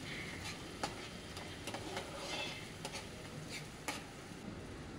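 A spoon stirs mustard paste through hot oil in a kadai for a fish curry, giving soft repeated scraping strokes over a steady close sizzle.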